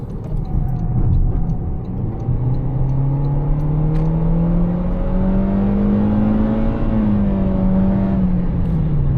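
A 2025 Toyota Corolla FX accelerates steadily onto a highway, its engine note climbing in pitch as it gathers speed, then easing slightly, with a constant loud drone and road noise inside the cabin.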